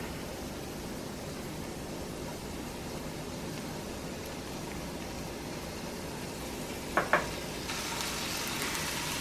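Onions, peppers and minced garlic sauté in a pan for seafood paella, a soft, fairly quiet hiss with a couple of brief clinks of a utensil near the end and no speech.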